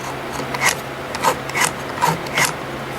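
A spring-loaded intake manifold tuning valve flapper from a 1997-2004 Ford Expedition is turned by hand, giving about five short, close, dry scraping rasps at an even pace over a faint steady hum.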